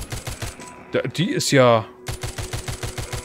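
Submachine gun fire in the zombie video game The Walking Zombie II, rapid bursts of close, loud shots before and after a short spoken pause, with someone talking over part of it.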